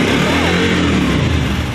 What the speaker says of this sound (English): Revs up a little bit, Billy.